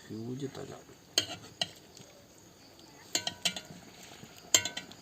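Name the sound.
catfish head curry sizzling in pan as head is flipped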